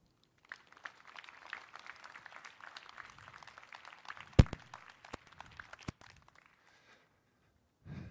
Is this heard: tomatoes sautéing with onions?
no